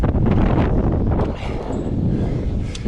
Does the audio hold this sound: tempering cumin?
no